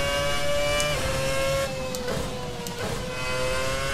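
A Formula car engine in the Assetto Corsa racing game at the Hungaroring, a loud sustained high-pitched whine with a gear shift and brief dips in pitch as the revs change, heard alone.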